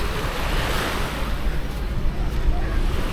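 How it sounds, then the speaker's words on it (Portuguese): Gentle sea waves at Canasvieiras beach, calm water with no strong surf, stirred by wind, a continuous soft wash and rustle with wind buffeting the microphone. "Só o vento mesmo que dá essa mexida um pouquinho mais nas águas"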